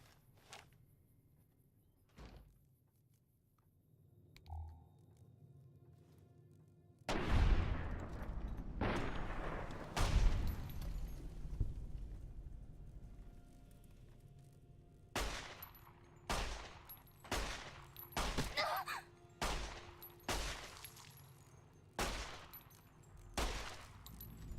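Pistol gunfire from a 9mm in the game Fallout New Vegas: loud, sharp shots, a few spaced early and then a rapid irregular string of about eight shots, with no talking.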